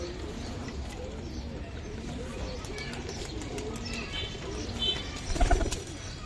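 Giribaz pigeons, small-headed birds kept for flying, coo softly and repeatedly in a loft or market setting, with people talking nearby and a brief louder burst of cooing and movement near the end.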